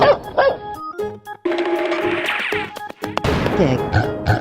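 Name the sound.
dog barking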